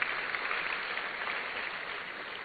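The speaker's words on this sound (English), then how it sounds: "Let's give him another round of applause." A university audience gives a continuous wash of clapping heard from a distance. The sound is muffled, level and steady for a few seconds, with no speech over it.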